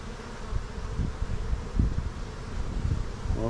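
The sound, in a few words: honey bees buzzing at an opened hive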